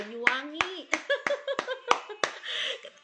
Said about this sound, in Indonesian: aku mau kasih tepuk tangan nih buat Banyuwangi.